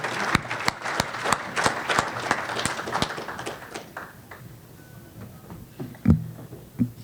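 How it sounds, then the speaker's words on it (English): Scattered hand claps from an awards-night audience for sports award recipients walking to the stage, sparse and irregular at first, thinning out after a few seconds into a quieter room with a couple of isolated knocks near the end. "let's give them a warm round of applause as they make their way to the stage"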